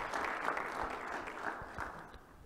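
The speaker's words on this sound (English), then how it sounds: "let's give him a round of applause" Applause from a room audience at a tech presentation unveiling a processor core, a steady, moderately loud wash of many hands clapping that stays even and fades slightly at the end.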